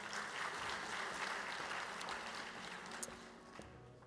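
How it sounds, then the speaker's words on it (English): A school audience gives a round of applause at a Teacher of the Year celebration, a dense, even wash of clapping heard from a distance and fairly faint, continuing steadily throughout. "Big round of applause."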